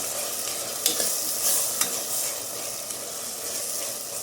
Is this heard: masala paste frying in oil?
yes